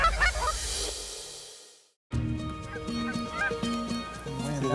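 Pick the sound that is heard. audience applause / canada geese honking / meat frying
canada geese honking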